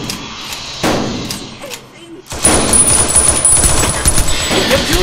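Troopers fire weapons in a war-movie battle, with loud thudding bursts of gunfire, a brief lull, then dense continuous shooting close by.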